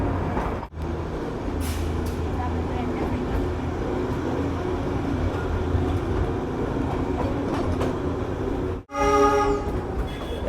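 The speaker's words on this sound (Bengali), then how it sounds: "একদম দোকানপাটের গা ঘেঁষে এই ট্রেন চলেছে।" The Darjeeling toy train rumbles steadily along close beside roadside shops, with a continuous low roar and rattling, then a loud horn blares near the end after a brief dip.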